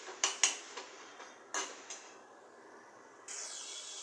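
A spoon scrapes and taps against a pan while stirring shepu greens with onion and besan, giving a few sharp metallic clinks followed by softer scraping and a brief sizzle, fairly close and quiet.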